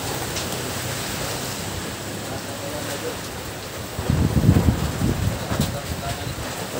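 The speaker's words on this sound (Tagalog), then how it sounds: "Oh, lakas ng hangin." Wind roars and buffets the microphone, with a rushing gust growing louder near the end.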